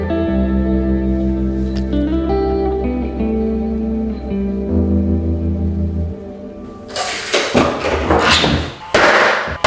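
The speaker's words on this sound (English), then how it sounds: "I can use my hammer to tap it up because this isn't the face side" Hammer taps drive a wooden door lining into place in a workshop, a cluster of sharp, close thuds and knocks arriving near the end over a sustained musical background.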